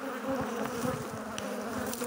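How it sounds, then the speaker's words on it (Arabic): Honey bees swarming at a new beehive give a dense, continuous buzzing hum, loud and close, with no talk over it. "شاهد كيف استقبلت الخلية الجديدة النحل."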